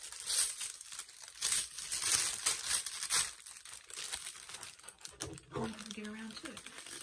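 Trash paper and sticker paper crumpled by hand, crinkly rustling bursts that come and go up close, heavier at first and then softer, with a voice talking through part of it.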